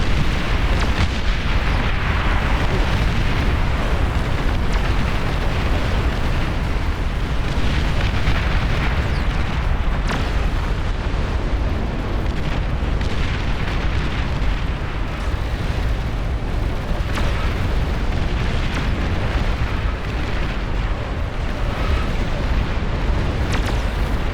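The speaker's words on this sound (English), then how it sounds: "I like how you can see the explosions permanently damaging the terrain." Dense, continuous rumble of booms and blasts layered over one another in a massive real-time strategy battle in Beyond All Reason, loud and unbroken throughout, with no clear gaps between explosions.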